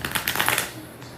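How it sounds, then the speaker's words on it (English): A quick riffle of cards being shuffled, a short burst of crisp flicking that fades into quiet. "let me do another shuffle here"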